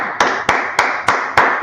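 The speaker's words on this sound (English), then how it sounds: "Let's clap it up for the Lord." Close, crisp claps in praise of the Lord land in a steady rhythm, five sharp even hits about a third of a second apart.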